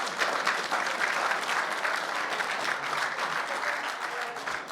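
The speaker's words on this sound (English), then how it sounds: "Clap if you got crazy family members." An audience at a stand-up comedy show bursts into dense, continuous applause, a full wash of many hands clapping at once with faint crowd noise underneath and no pause.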